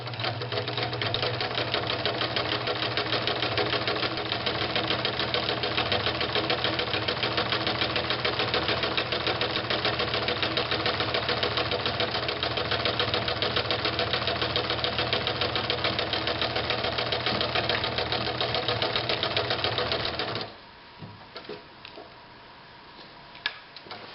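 A Bradford sewing machine stitches a full-width zigzag with a steady, rapid mechanical clatter that runs unbroken for about twenty seconds before stopping abruptly, leaving only faint room noise.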